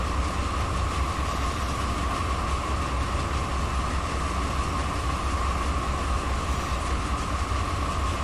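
Steady, loud rumble of a 9,000-ton rock freight train rolling along in Run 8 Train Simulator, wheels and cars churning evenly with faint clickety rhythm and a sustained mid-pitched drone, uninterrupted and free of talk.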